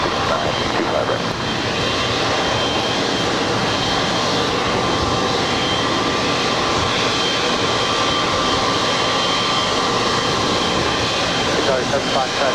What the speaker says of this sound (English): United 1069, runway 25 right, clear for takeoff